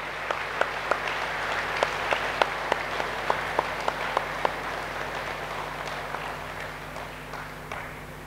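Audience applause fills a hall at a spoken talk on Buddhi Yogam, a steady wash of many hands clapping with a few sharper individual claps standing out, sustained at moderate level throughout.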